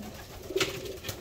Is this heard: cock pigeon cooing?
yes